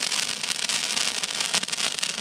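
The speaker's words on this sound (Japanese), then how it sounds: "花火って感じ。" Handheld sparklers hiss and crackle steadily at a family summer campsite, a dense continuous fizzing with brief sharper bursts, fairly close and moderately loud, with no talk during the burn.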